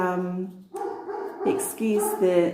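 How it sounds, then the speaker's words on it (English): A dog in Italy barks and yips in short bursts close by, mixed in with a person talking over it. "the dogs like to be quite verbal"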